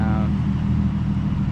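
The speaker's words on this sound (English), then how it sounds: "I just want to do a video of how this car sounds driving it with my point" Infiniti G35 with a 6-speed manual and muffler and resonator delete, its engine droning low and steady from inside the cabin while driving, with a brief higher whine at the start.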